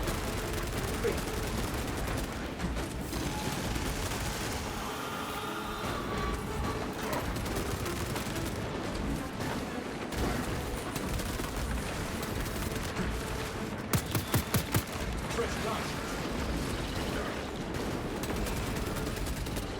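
Heavy bolter fire in a video game, a steady dense barrage of gunfire and explosions running throughout at moderate level, with a brief cluster of sharper shots toward the end.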